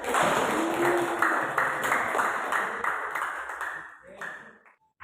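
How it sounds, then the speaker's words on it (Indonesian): A classroom of students claps for a winning group, a fairly loud, close burst of many hands that thins out and fades toward the end, with a faint ping near the close. "Silakan tepuk tangan buat kelompok 2."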